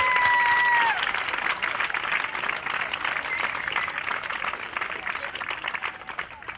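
A crowd at the opening ceremony of the 2013 Coupe Leblanc tennis tournament applauds steadily, a sustained wash of clapping that carries on to the end. A brief tone sounds at the very start.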